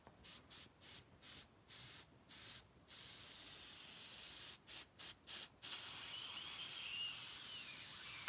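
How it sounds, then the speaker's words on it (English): Short bursts of aqua gloss spray hiss from an airbrush over a model diorama, several quick pulses in a row, then a longer continuous spray, close and fairly loud with no talking. "we can just spray it with the aqua gloss."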